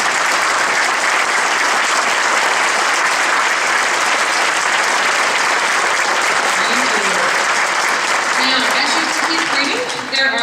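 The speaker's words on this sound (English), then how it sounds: "And these people definitely deserve a large round of applause." Concert audience at a school band winter concert applauding, sustained loud clapping from a large crowd that fades near the end as a voice begins speaking.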